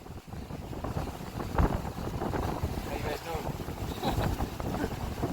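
Strong coastal wind gusting across the microphone beside the ocean, a steady broadband roar with surges throughout, while people talk nearby.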